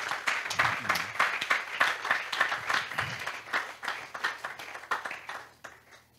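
A church congregation applauding together, a steady run of close, bright clapping that pulses in waves before thinning out and fading near the end.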